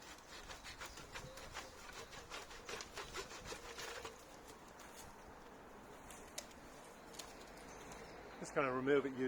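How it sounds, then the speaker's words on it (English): A tenon saw cutting through tree branches in a garden gives a run of quick, close rasping strokes that fade after a few seconds, while pigeons coo in the background. "Just going to remove it using mostly the tenon saw for the bigger branches."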